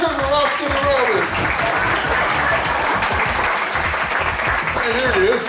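An audience at a magic and comedy show claps loudly for a rabbit in a sustained, dense round of applause, with voices calling out over it near the start and end.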